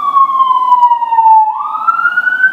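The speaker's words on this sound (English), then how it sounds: "can you hear the sirens?" A wailing emergency vehicle siren in a London street sweeps down in pitch then rises again, loud and steady with no voices, passing nearby.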